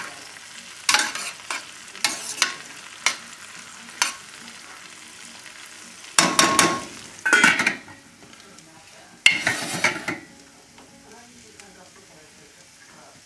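Pork chops with cranberries sizzle in a frying pan while a spoon stirs them in bursts, scraping and clacking against the metal between quieter stretches of steady frying.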